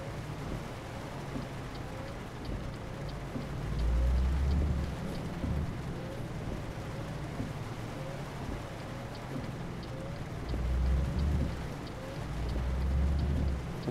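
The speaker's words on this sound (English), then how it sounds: "It's raining, it looks like." Steady rain falls in Euro Truck Simulator, a dense continuous patter with low rumbling swells at intervals, like distant thunder or a passing engine, heard without talk.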